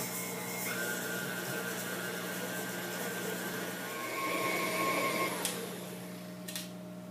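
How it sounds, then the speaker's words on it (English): An electric mixer on medium speed creams butter and sugar for snickerdoodle dough, giving a steady, fairly quiet motor hum with a constant tonal whir and soft rubbing, swelling slightly partway through. "So now we want to mix on medium speed for about 2 minutes until the butter and sugar cream"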